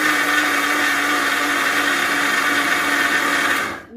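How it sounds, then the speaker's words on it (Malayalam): A mixer grinder churns soaked urad dal with a loud, steady whirring drone that runs unbroken for several seconds, then cuts off abruptly near the end. "മിക്സിയിലാട്ടുമ്പോൾ എപ്പോഴും നമ്മൾ ചേഞ്ച് ചെയ്ത് കൊടുക്കണം."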